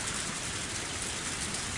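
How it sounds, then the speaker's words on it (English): A heavy rain downpour in the video game Higurashi When They Cry, a dense, steady hiss of falling water that fills the scene with no voices. "With the downpour soaking me through,"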